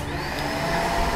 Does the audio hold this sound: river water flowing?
no